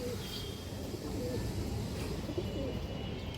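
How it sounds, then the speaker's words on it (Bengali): Low, throaty pigeon coos rumble continuously, several birds close by, over a dense background murmur. "খুব সুন্দর একটা খরা গলা মাদি কবুতর"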